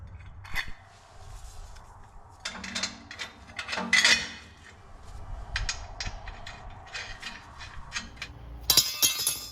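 Metal parts of a new front frame clink and clatter as they are bolted onto a 1950 Cadillac hearse, with irregular close taps, ratcheting and tool knocks followed by a sharp burst of noise at the end.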